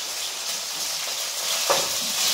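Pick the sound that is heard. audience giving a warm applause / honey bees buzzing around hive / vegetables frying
vegetables frying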